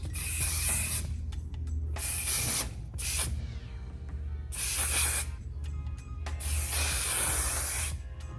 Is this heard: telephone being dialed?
no